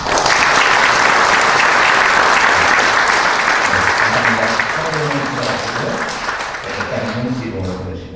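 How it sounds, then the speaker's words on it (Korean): A church congregation bursts into celebratory applause at a pastor's installation service, loud sustained clapping filling the hall for about eight seconds and tapering slightly near the end, with faint voices talking underneath. "우리 한번 축하의 박수를 한번 합니다."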